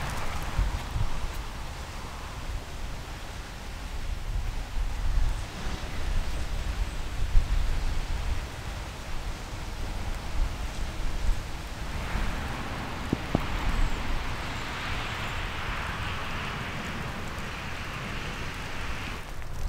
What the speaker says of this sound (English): All that sort of raining and stopping.